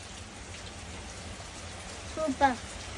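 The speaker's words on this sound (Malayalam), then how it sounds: "പുറത്ത് മഴ തുടങ്ങിയിട്ടുണ്ട്" Rain falls outside a home in a steady, even hiss that carries on throughout, with a brief voice rising near the end.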